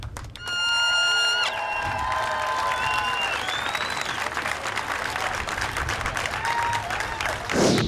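A crowd cheers and applauds at an annual veterans parade, sustained loud clapping and shouting spread across the scene, with tonal music-like notes near the start and a voice over it.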